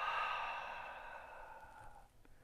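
Slow, audible exhale during a qigong breathing exercise, a soft, airy breath that fades gradually over about two seconds, close and alone.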